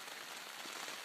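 Morning rain keeps falling on a camping tent on the Highline Trail, a close, constant hiss of drops drumming on the fabric, uniform in level throughout and with nobody speaking.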